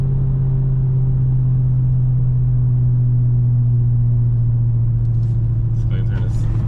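A Dodge Hellcat idles with a deep, steady engine rumble and a continuous low supercharger drone heard from close by inside the car, with a few faint clicks and scrapes near the end.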